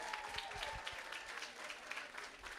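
Audience at a kindergarten stepping-up ceremony at Merrick Academy claps in a steady, moderate patter of many hands, fairly distant and even throughout, with faint voices mixed in.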